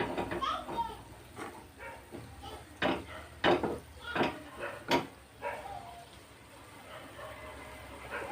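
Kala jamun frying in oil in a kadhai while the pan is gently shaken, a soft close sizzle broken by scattered scrapes and knocks of metal, quiet, with a voice talking over it.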